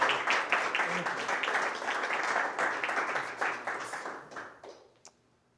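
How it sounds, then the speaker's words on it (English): Seminar attendees give a speaker a warm round of applause, lively clapping with a few cheers that holds steady, then thins out and stops abruptly, leaving near silence. "Hey, let's give Justin a round of applause."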